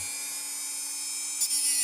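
A cutting wheel grinds through metal to make flat flying wires, giving a steady, loud high-pitched whine that holds throughout with only a slight change near the end.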